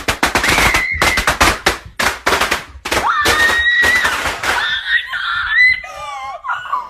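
A dense string of sharp firecracker bangs goes off indoors, loud and close, followed by children's high screams and shrieks as the popping fades.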